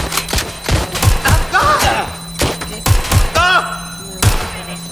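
Gunfire in the video game Watch Dogs Legion, a string of loud close thumping shots in bursts over several seconds, mixed with excited voices talking and shouting.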